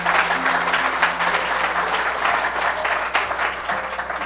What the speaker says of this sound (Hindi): परमेश्वर के लिए सब जन ताली बजाएंगे जोरदार